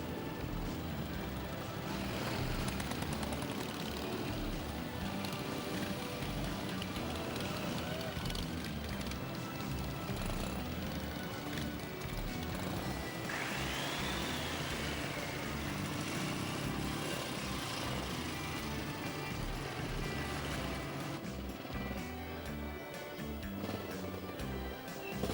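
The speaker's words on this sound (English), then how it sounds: "That's the Norton Dominator. That's their 500 twin." A Norton Dominator 500 twin motorcycle engine runs steadily with a continuous rough drone, moderately loud, with a brief rising whine in the middle and someone talking over it.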